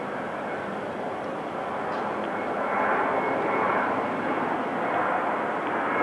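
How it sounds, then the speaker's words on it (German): An airplane flies over an outdoor tennis stadium during a 1988 US Open match, a distant, steady aircraft engine roar that swells slightly midway and lingers with no speech. "wenn ein Flugzeug über das Stadion fliegt"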